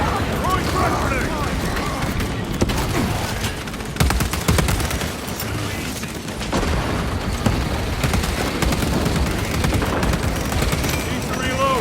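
A frag grenade blast and heavy automatic gunfire in Warhammer 40,000: Space Marine 2. There are dense volleys of rapid shots and booming bursts across a chaotic battle, with voices shouting beneath the din throughout.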